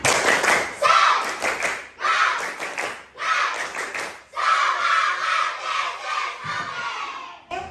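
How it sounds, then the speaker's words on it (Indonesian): A classroom of students does a rhythmic 'tepuk semangat' clap, with loud bursts of group clapping and chanting voices in a patterned sequence, ending in a longer sustained shout. "Coba tepuk semangat."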